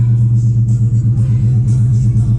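A Dodge Charger R/T running an E85 tune drones with a steady, loud low rumble from the engine, heard close and continuously on a short drive.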